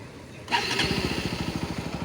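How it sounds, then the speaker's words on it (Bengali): A motorbike engine is started with its electric self-starter: a brief cranking whine, then the engine catches and settles into a steady, close, pulsing idle with no talk over it. "বাইকে চাবি লাগাইনি, আমি সেলফ দিচ্ছি।"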